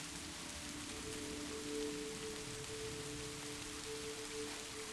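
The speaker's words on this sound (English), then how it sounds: "Rain upon the trees, rain upon the earth, rain upon the roof somewhere ahead." Steady rain falls on trees, earth and a roof, a soft, even wash of patter with a faint low rumble beneath, quiet and continuous throughout.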